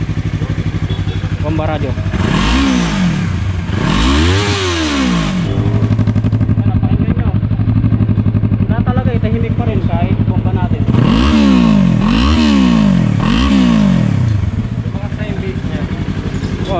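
A motorcycle fitted with a Gori pipe muffler starts and runs close by, rising in repeated throaty revs with deep exhaust burble between, while someone talks over it.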